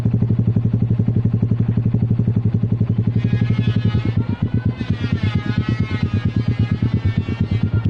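A Rusi Neptune 125 scooter engine idles loud and close through its exhaust, with a rapid, steady thumping pulse, and a mid-clip shift brings a slightly rougher, busier tone.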